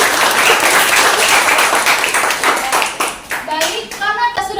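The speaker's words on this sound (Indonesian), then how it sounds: "Beri tepuk tangan untuk Rama." A classroom of students claps for a classmate in a cooking-education lesson, a dense burst of many hands that fades into a voice near the end.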